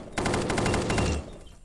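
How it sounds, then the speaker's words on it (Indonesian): A rapid burst of automatic gunfire, about one second of closely spaced shots, rings out loud and clear in an anime-styled first-person shooter video game with a Minecraft theme. "kita tembakin dulu dia"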